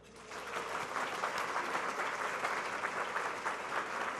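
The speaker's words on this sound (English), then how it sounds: "If you agree with me, I want to hear you clap." A luncheon audience at a library foundation book author event breaks into sustained, even clapping that swells quickly and holds steady without cheering.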